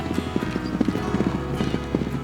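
Horses' hooves clip-clop in a quick, even rhythm as they are worked at a training facility, close and clear over a steady background hum.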